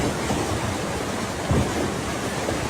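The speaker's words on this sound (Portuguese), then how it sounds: "E aí nós tivemos uma tempestade." Heavy rain roars as a dense, steady hiss, with a low rumble of thunder swelling briefly partway through.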